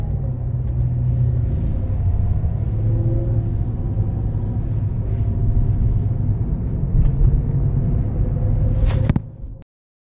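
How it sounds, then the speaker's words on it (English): A car drives along a road in Detroit, Michigan, a steady low engine and tyre rumble from inside the cabin that holds evenly, then cuts off abruptly near the end. "I'm driving to home"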